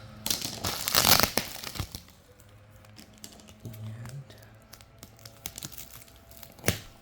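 Crinkling and cutting through the plastic packaging on a dog bed, with a loud rustling burst at first and then quieter, intermittent crackles and snips close by.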